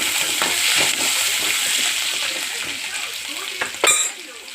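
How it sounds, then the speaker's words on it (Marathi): Garlic frying in hot oil with cumin for a dal tempering, a close steady sizzle with a few stirring scrapes and a louder splattering burst near the end. "लसूण भाजून घेऊया।"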